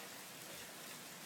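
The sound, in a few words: heavy rain during a thunderstorm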